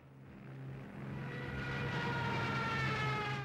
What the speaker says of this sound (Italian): I tedeschi amplificarono questo effetto montando sugli Stukas delle sirene